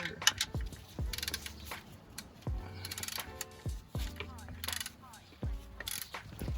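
A socket wrench ratchet loosens a car's oil drain plug with faint, quiet clicking strokes in short bursts, mixed with metallic handling and knocks. A person talks softly now and then.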